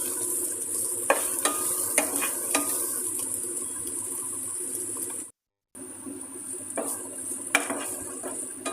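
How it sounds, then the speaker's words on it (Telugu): Ginger garlic paste frying in a pan for a bottle gourd curry, with a steady sizzle under repeated scrapes and clinks of a spoon stirring against the metal, one brief dropout midway. "పచ్చివాసన పోయేలాగా వేయించి కలుపుతూ ఉండాలి"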